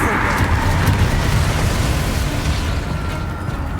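A Confringo spell explosion in Hogwarts Legacy: a loud, rumbling fiery blast that fades out over a few seconds, with a voice speaking briefly.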